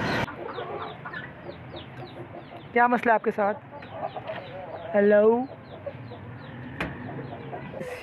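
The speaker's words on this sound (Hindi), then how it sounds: "मुर्गा आ रहा है, मुर्गा आ रहा बच्चे।" A rooster clucks in short bursts near a home, loud close calls rising above a quiet background while a person speaks briefly.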